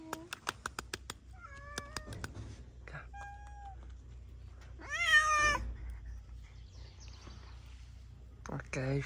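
A female cat meows loudly and repeatedly in a series of drawn-out calls near the microphone, with a person talking in between.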